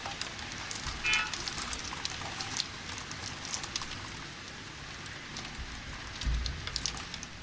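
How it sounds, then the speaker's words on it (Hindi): Very heavy rain pours down steadily in Karachi, a dense hiss of drops close by, with a couple of dull thumps and no voices. "बहुत तेज़ बारिश हो रही है"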